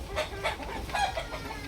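Gamecock rooster clucking in short repeated bursts, fairly close and clear, with no talk over it.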